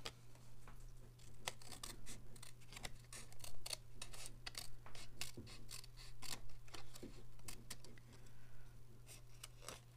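Scissors trimming the overhanging edge of card paper for a staircase card: a quiet run of rapid, crisp snips, close and alone over a steady low hum.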